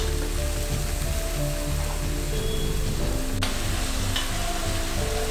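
Onions sizzling in hot oil in a pan for Punjabi soya chaap, a steady continuous crackle with occasional faint clinks, no voices.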